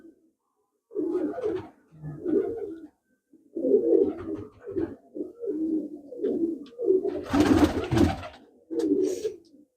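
Desi pigeons coo in a series of repeated, rounded bursts with short pauses between them, close by and fairly loud, with one louder, rougher burst near the end.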